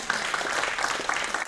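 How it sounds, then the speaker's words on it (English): Audience at a talk giving a brief round of applause, a dense, even patter of many hands at moderate distance, heard alone without speech. "can we give her a round of applause,"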